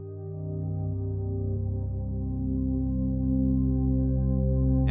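A Bitwig synth patch, played through Dune, holds a steady low drone while random modulators gently shift the filter cutoff. The sustained tone swells slightly over a few seconds with no other sounds.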